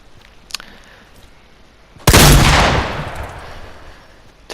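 A single loud shotgun blast in a video game, a sharp burst that decays over about a second into a fading rumble, preceded by a faint click.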